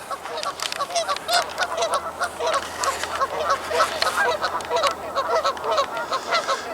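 A pair of geese squabbling at a pond, honking in rapid, overlapping bursts that continue throughout, fairly close and loud with no voices.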